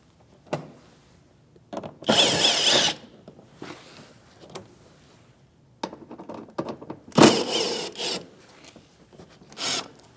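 A power tool with a 7mm socket runs in short bursts to back out bumper mounting screws on a 2016-2025 Chevrolet Malibu, two longer whirring runs among clicks and handling noises, close by.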